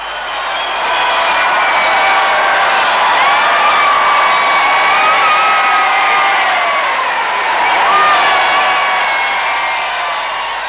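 A large outdoor crowd cheering and shouting in a continuous roar, with whoops and high voices swelling and easing over about ten seconds, fairly loud and close.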